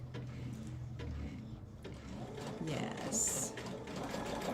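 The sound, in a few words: sewing machine sewing fabric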